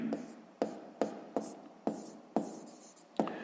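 Pen or pencil writing out a sixth-grade maths exercise on paper, a series of short scratchy strokes at a steady, unhurried rhythm, close and quiet.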